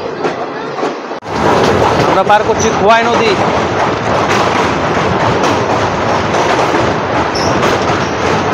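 Agartala-Karimganj DEMU train 75679 rolls loudly on the rails as it crosses the Khowai river, a dense, constant rumble with clattering wheels from inside the train, while someone talks briefly over it.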